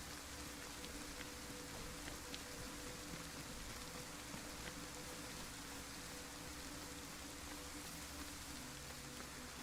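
Steady rain falls in the video game DayZ on the Chernarus map, a constant even hiss of drops with no breaks, faint in level and with no voices.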